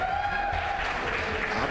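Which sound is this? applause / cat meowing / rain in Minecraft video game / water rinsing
applause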